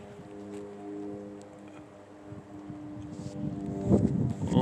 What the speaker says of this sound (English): We've got an aircraft out here flying around.